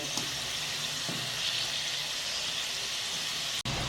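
Kachori pastries fry slowly in hot oil until golden, giving a steady, close, even bubbling sizzle that runs throughout with almost no change, briefly cut off by a short dropout near the end.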